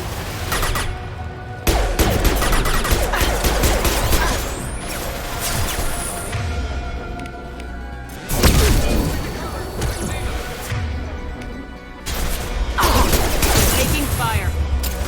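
Bursts of sci-fi gunfire and crashing impacts in Mass Effect 2 combat, loud, dense volleys coming in several waves with brief lulls between, mixed with chaotic battle noise.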